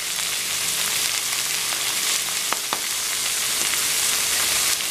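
Vegetables with salt and turmeric sauté in a pan for masala khichdi, a steady close sizzle with a few faint stirring scrapes, no talk.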